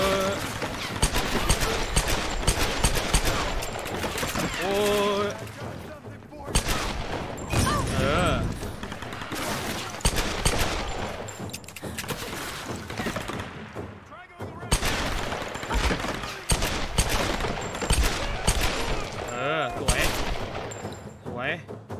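Rapid gunfire in the Tomb Raider video game, dense bursts of shots rattling almost continuously with brief gaps, loud and close, while someone talks over the action.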